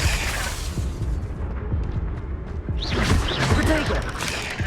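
Confringo blasting spell from Hogwarts Legacy erupting in a loud, rumbling burst with crashing debris and booming low end, layered with busy game combat effects; a voice speaks over part of it.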